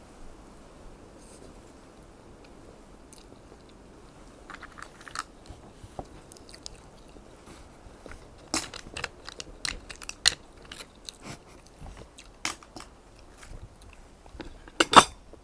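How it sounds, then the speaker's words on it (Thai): Crisp, crunchy chewing of a fresh vegetable salad, heard close up as sporadic bites that grow busier and louder toward the end, with no talking. "แซ้ชิมให้ตุ๋ยเนาะ ผักสลัดอันนี้แซ่บ"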